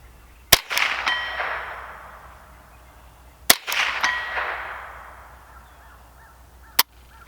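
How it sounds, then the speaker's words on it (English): Ruger 10/22 rifle rounds striking 6-inch and larger steel targets outdoors: three sharp metallic clangs spaced a few seconds apart, the first two ringing out with a bright decaying tone, heard alone without talk. "I did hit one of the 6-inch steel targets up there, and put a couple rounds on the big one up there too"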